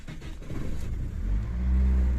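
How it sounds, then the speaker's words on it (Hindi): A Toyota Hiace Grand Cabin TRH 224 van's engine turns over and catches, its low mechanical rumble building and settling into a loud, close, steady idle. "गाड़ी आपको स्टार्ट करके चेक करवाते हैं"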